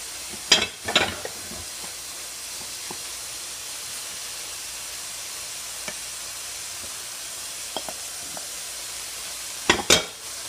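Sautéed sausages cook with tripe in a pan, giving a steady close sizzle and hiss throughout. Clattering stirring scrapes come near the start and again at the end, and no one speaks.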